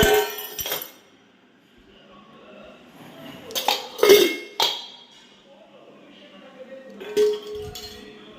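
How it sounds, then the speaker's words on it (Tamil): Dishes and pots being put away after washing in a home kitchen, a few scattered clinks and clatters of metal and glass, brief bursts near the start, middle and end over quiet room sound. "பாத்திரத்தெல்லாம் எடுத்து வச்சுருவாங்க."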